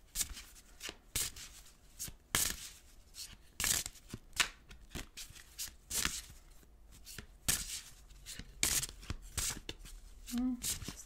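Tarot cards are shuffled close up in repeated riffles and soft rubbing bursts, with a quiet voice speaking briefly near the end.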